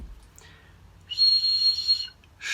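Breath blown into a corrugated pipe produces a single bright, steady whistle lasting about a second. It is close and clear, with faint breathy puffs before and after.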